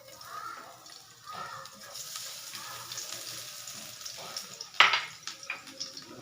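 Chopped onion and garlic hit hot cooking oil in a pan and crackle with a steady soft sizzle, while a person talks over it and a sharp clatter stands out near the end.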